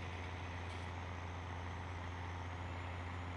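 A Case Maxxum 5150 tractor driving in Farming Simulator 19, a steady low engine drone with constant tonal hum and no pauses, with no one talking.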